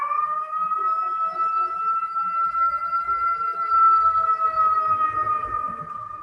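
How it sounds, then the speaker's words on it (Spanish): A steady wailing siren with a slowly drifting pitch sounds continuously throughout, fairly loud and close, with faint background rumble beneath. "Ya se fue la ambulancia."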